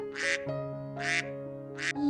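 A small duckling quacks three times in a children's story about a pond, each quack short and close, spaced roughly evenly over a steady tonal background of soft music.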